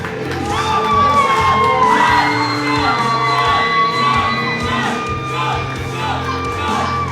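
Loud wrestling arena crowd cheers, shouts and whoops at a House of Flies event as a champion makes his entrance, a dense sustained roar with high yells and tonal entrance music running underneath.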